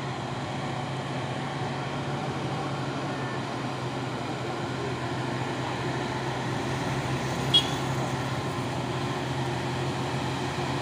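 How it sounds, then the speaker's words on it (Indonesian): A Hino Euro 4 tanker truck hauling crude palm oil rolls past slowly on a road, a steady low engine rumble amid traffic noise that stays at a fairly even level, with one brief sharp click near the end. "Lagi truk tangki CPO Hino Jember Euro 4."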